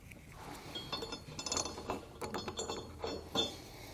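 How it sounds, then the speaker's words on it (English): Bolts slide through the brackets for Firestone Ride-Rite Red Label air helper springs on a 2020 Chevrolet. Faint, close metallic clinks and scraping rattles arrive in short uneven bursts as the hardware is handled, without talking. "we're going to slide them through our brackets."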